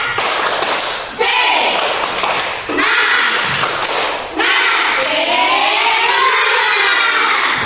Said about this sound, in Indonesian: Mari lagi, tepuk semangat